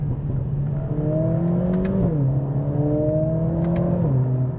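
A modified Mercedes-AMG CLA45 revs up and down in second gear in manual mode, its loud exhaust note rising and dropping twice with a steady, throaty drone throughout.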